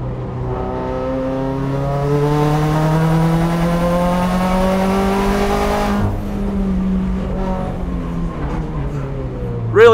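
A Subaru WRX race car at full throttle on the Buttonwillow track during a time attack event, its engine note rising steadily with strong harmonics, then a sharp shift and lower drone as it carries on, loud and close.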